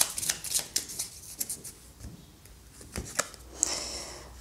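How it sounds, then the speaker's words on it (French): Tarot cards are handled and drawn, giving brief papery shuffles, slides and soft flicks in an irregular sequence, heard close and fairly quiet with no talking. "Je vais juste prendre deux cartes."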